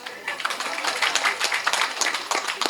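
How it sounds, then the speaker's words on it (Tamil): An audience claps in a short, scattered burst at a press meet for the film Silambam, heard at moderate volume from a slight distance. "தயவு செஞ்சு நீங்களே ஒரு தடவை கைத்தட்டிடுங்க"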